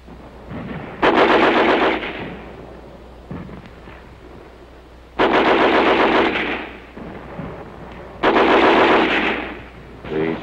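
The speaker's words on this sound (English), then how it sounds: "There was firing up and down the streets." Heavy machine gun fire from World War II street fighting in Belgium, three loud, close bursts of rapid rattling shots about a second long each, separated by quieter gaps with faint distant pops.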